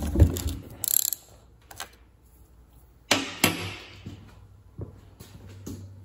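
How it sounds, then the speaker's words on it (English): A ratchet wrench clicks in short bursts while backing out the cam chain tensioner bolt on an ATC 200 engine cylinder head, with metallic taps and gaps of quiet between close, sharp clicks. "we're gonna get this cam chain tensioner bolt"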